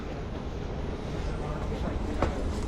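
A Delhi metro train on the airport line rumbles past with a steady, broad roar, close by, with a brief clatter near the end and voices faintly underneath.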